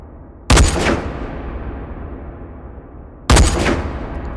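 Two loud scoped rifle shots on a virtual sniper range in H3VR, spaced about three seconds apart, each a sharp close crack with a long decaying reverberant tail between them.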